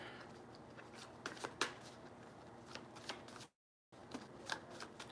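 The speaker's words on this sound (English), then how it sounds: "Shuffle just a little bit more." Tarot cards are shuffled up close, a soft riffling and flicking broken by one brief silent gap.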